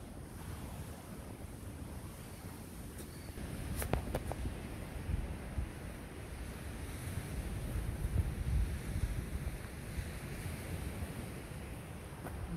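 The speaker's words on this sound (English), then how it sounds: "So it's a windy day, another windy day." Strong wind buffets the microphone at seaside caves on the Scottish coast, with surf washing in a steady, loud roar that swells slightly midway.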